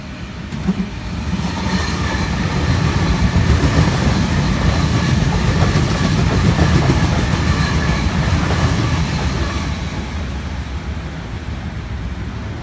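A Sydney train rumbles past steadily at Macdonaldtown with rhythmic clickety-clack of wheels on rails, swelling louder in the middle and easing off toward the end.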